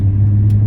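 An Audi B5 S4 rolling along at about 20 mph, its engine a steady low rumble heard from inside the car, even and unhurried with no revving.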